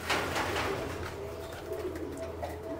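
Racing pigeons coo at a loft during a pigeon race arrival, a steady soft murmuring of several birds close by with faint background noise throughout.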